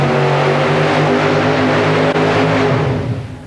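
A super modified mud racing car at an indoor 1991 Nassau Coliseum event roars loud and close, its engine holding a steady droning pitch while the wheels spin without gaining traction, then the sound fades slightly at the end.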